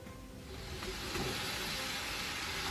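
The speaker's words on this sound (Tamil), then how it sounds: "வெங்காயத்தை நல்லா வதக்கி விடணும்." Onions sautéing in hot oil with whole spices for an Ambur-style prawn dum biryani, giving a steady, close, broadband sizzle and hiss that holds evenly throughout with no talking.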